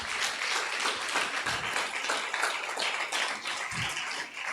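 A congregation at an evening prayer meeting claps steadily, many hands producing a continuous, even patter of applause throughout, moderately loud with a few stronger thuds.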